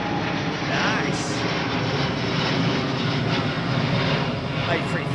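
Airbus A330-200 jet airliner with CF6 engines on runway 09R at Heathrow, a loud, steady broadband engine roar holding throughout, with voices talking over it.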